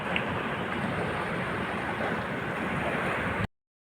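Steady broadband rush of sea waves along a tourist seafront in Italy, continuous and fairly loud with some wind on the microphone, no talking, cutting off abruptly near the end.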